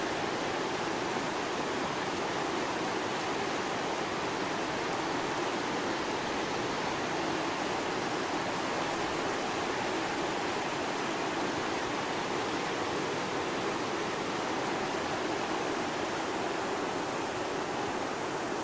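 River water rushes in a steady, even flow, with continuous broadband noise and no voices.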